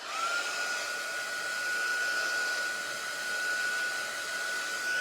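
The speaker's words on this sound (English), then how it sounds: "I heat it with the heat gun to get it dry quicker" A heat gun blows steadily to dry coloring medium, a continuous close whooshing roar with a faint high whine, unbroken and alone.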